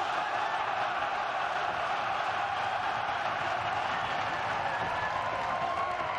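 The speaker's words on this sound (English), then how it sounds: "And this crowd is into the action early, supporting their guy, Mark Hunt." A fight crowd roars steadily for Mark Hunt, a dense wash of cheering and applause filling the arena without letting up.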